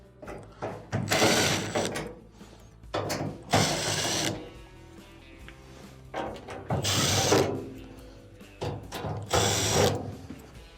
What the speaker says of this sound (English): Now, you'll have to remove these Phillips screws on the front.